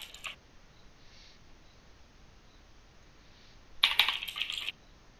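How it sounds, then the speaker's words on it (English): Computer keyboard typing in a quiet room: a short burst of clicks at the start, then a denser cluster of rapid keystrokes about four seconds in, with near silence between. "Can you see me typing, Dylan?"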